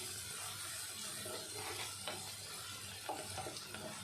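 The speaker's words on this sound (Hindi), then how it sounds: "तब तक के इसको इसी ऑयल में फ्राई होने देना है, सॉरी घी में" Onion frying in ghee for dal tadka, a steady soft sizzle and hiss filling the background, with faint stirring scrapes near the end.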